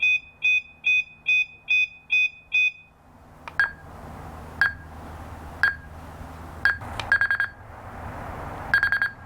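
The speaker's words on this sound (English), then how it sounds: "this ringtone, or whatever you want to call it, the tone from the receiver, is the correct sound to set off this alarm" A driveway alarm receiver sounds its alert tone in a loud, near series of repeated electronic beeps. Sharp single chimes follow at intervals, with a background rumble underneath.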